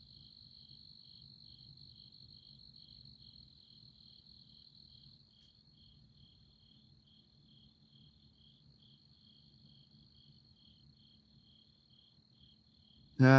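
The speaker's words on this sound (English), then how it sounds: "You hear the crickets out there?" Crickets chirp in a steady, high, continuous trill, faint and distant over quiet night air, ending with a sudden sharp noise.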